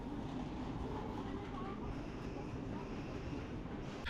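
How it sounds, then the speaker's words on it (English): Steady low rumble of an SNCF and SBB high-speed train in motion to Basel, Switzerland, heard from inside a carriage, with a constant droning hum throughout. "I boarded an SNCF and SBB high-speed train to Basel in Switzerland."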